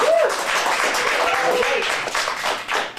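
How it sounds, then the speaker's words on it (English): Audience applause for child actors at a kids' film acting showcase, a steady wash of clapping from a small crowd with a brief voice near the start. "let's give them a round of applause again"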